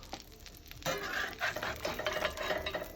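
A salmon fillet is flipped in a frying pan with a spatula: a scraping clatter against the pan, then light sizzling and a few small metal taps, close and moderately loud, with no talking.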